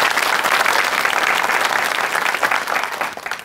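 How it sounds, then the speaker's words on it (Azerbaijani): Audience at a live comedy show claps in a dense, steady burst of applause that carries on evenly and thins slightly toward the end. "Özünüzə bir alqışlayaq"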